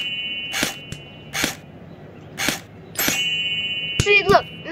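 Gunshots in the video game Amazing Frog: a series of sharp, bright cracks at irregular intervals, four or five shots plus a ringing clink, heard over faint background game noise.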